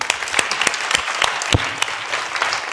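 Audience applause at an evening reading and book festival event, a brief burst of dense hand clapping with sharp individual claps standing out, fairly close and alone without speech.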